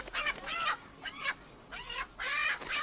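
Chickens squawk in several loud, harsh bursts separated by short pauses, close by.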